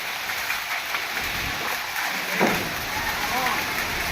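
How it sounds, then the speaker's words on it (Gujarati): Hail falls during a village rainstorm, a dense, continuous patter of pellets striking surfaces, while people talk loudly over it. "કહો તો શું કરા પડ્યા છે"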